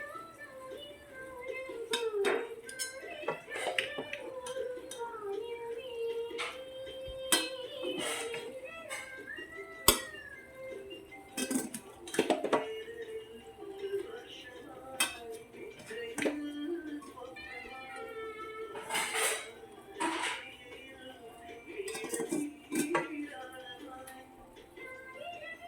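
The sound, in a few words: cooked kaima rice layered into prawn biriyani pot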